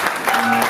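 Audience applause at a talk, a brief dense burst of clapping heard close and fairly loud, lasting under a second with no distinct voices.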